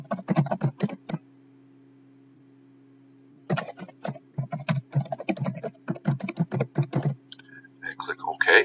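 A computer keyboard is typed on in quick bursts of clicky keystrokes, pausing for a couple of seconds before another longer run of typing, over a faint steady electrical hum.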